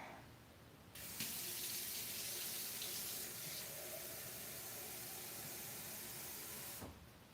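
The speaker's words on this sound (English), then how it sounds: "We're gonna add our water and our oil." Water running from a tap into a bowl for cracker dough, a steady hissing splash that starts abruptly, continues for about six seconds and then cuts off, fairly quiet.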